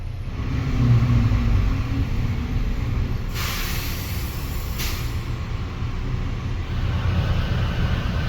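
Dense Manchester city traffic near Piccadilly rumbles steadily with a deep low roar, and a brief hiss, like a bus air brake, cuts through twice partway along. No voices.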